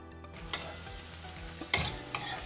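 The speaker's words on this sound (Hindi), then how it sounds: "इसमें आधा चम्मच अदरक का पेस्ट, आधा चम्मच लहसुन का पेस्ट डालकर इसे ब्राउन होने तक भूनेंगे।" Ginger and garlic paste frying in a pan, with a steady low sizzle and a couple of sharp scraping stirs of a spoon.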